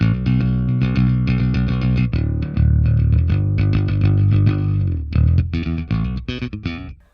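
Bass guitar played through an amp model on a Line 6 HX Stomp, a slightly driven tone plucking a steady run of notes, then looser phrases and sparse final notes, clear and close with no talk.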